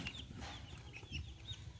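Young Columbian Light Brahma chicks about four weeks old clucking and peeping in short soft bursts, faint and close, with no talk.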